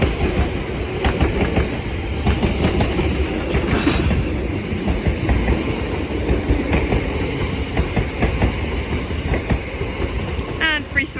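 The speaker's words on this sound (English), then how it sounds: "we also have a Greater Anglia service from London Liverpool Street to Chelmsford" Greater Anglia Class 720 electric multiple unit running through Bethnal Green station in London, a steady rolling rumble with rhythmic wheel clatter over rail joints, loud and close throughout, ending in a brief high squeal.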